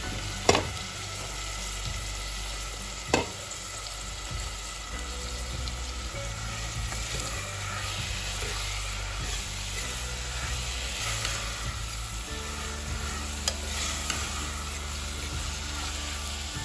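Steady sizzling of onions frying in oil in a pressure cooker, with a few sharp clinks and light stirring noises over a continuous crackle.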